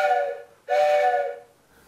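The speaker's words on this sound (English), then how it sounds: "it's a train whistle" A recorded train whistle effect sounds in two loud, sustained, multi-toned steam-whistle blasts, the first fading out before a second strong blast starts and then tails off, with no talking.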